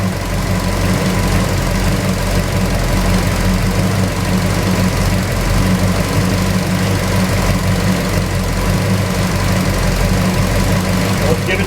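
A Pontiac GTO engine idles loud and close, a steady low rumble with a faint knocking pulse that stays even the whole time, with no talk over it.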